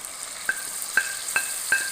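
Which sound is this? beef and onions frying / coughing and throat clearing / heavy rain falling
beef and onions frying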